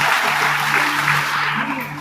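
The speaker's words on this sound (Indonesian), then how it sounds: "Berikan tepuk tangan untuk Tuhan Yesus." An audience at an Indonesian church sermon applauds in praise of Jesus, a dense, fairly loud burst of clapping holding steady for two seconds before easing slightly, with a low hum beneath.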